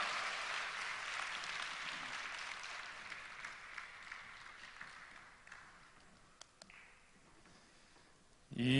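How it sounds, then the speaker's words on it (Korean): A church congregation claps together in thanks, a broad wash of applause that slowly fades over several seconds, with a few isolated claps near the end and a sudden louder sound at the very close. "다 같이 하나님께 감사의 박수 올려드리겠습니다."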